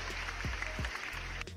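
Brief, steady wash of applause-like clapping at a moderate level, lasting under two seconds with no voices on top.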